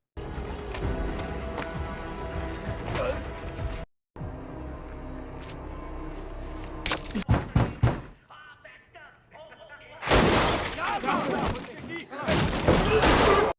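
Gunfire erupts in a film fight between a mercenary and international gangsters, loud bursts and rapid shots mixed with impacts, thuds and a dense action soundtrack, with brief drops between the volleys.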